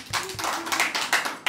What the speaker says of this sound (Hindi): पानी। ताली।